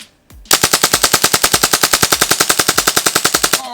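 A Tippmann M4-22 Micro Elite airsoft pistol running on HPA through a line and tank fires a loud, fast full-auto string of roughly thirty evenly spaced sharp cracks, close up and with no talking.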